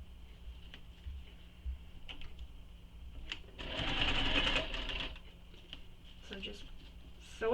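A sewing machine runs a stitching seam across a handmade convertible bag, with a brief loud burst of rapid mechanical chatter near the middle, and lighter ticks and handling noises around it.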